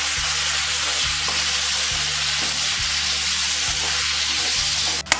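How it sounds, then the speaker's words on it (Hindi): Tomatoes frying with mashed eggplant for baingan bharta, a steady, loud sizzle and hiss that fills the pan throughout, with a low background hum and a sharp clack near the end. "दो 3 मिनट भूनने के बाद ये हमारे टमाटर गल गए हैं।"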